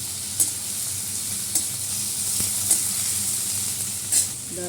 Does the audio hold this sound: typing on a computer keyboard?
no